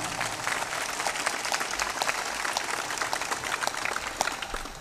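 An audience at a spiritual discourse in Patewa, Chhattisgarh, breaks into vigorous applause, a dense, steady wash of clapping hands that runs through the whole stretch without pause.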